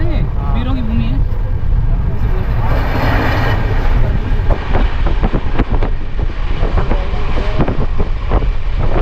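Sealdah–Ajmer Superfast Express (12987) running on the rails, heard as a steady, loud broadband rumble with wind buffeting throughout, and voices briefly audible over the noise.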